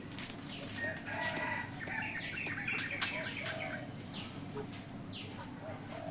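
Chickens cluck and a rooster crows in a caged coop of fat LB chickens on a Kedah farm, a steady busy background of fowl calls with one louder crow near the middle.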